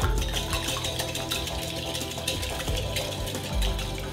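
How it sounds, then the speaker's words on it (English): Two eggs are whisked in a bowl, giving a quick, continuous run of light rhythmic tapping and sloshing strokes at close range. "Give those a little whisk."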